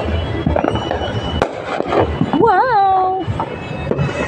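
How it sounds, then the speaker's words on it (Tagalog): New Year fireworks in a residential neighbourhood crackle and pop in scattered bursts, with a sharp bang near the middle and a whistling rocket rising and wavering, all under a busy background of crowd noise and distant voices. "Yung mga magagandang fireworks"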